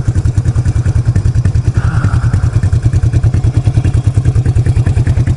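A motorcycle engine runs after repair with a steady, rapid thumping idle rhythm. It is loud and close, with a light clattery texture and no talk over it.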